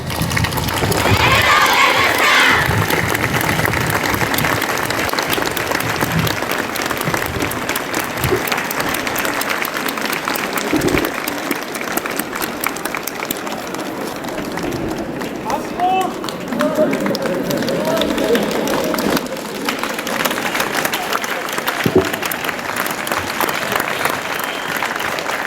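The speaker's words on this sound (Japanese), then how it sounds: "たくさんの拍手をありがとうございます。" A large audience claps steadily for a school brass band and cheerleading squad at a Japanese high school performance, loud and sustained applause filling the space while an announcer speaks over it.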